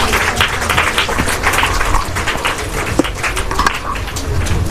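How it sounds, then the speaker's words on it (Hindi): An audience at a school prize ceremony claps steadily and loudly for a medal winner, a dense patter of hands with scattered sharper claps and a few faint voices mixed in. "एक बार जोरदार क्लैपिंग"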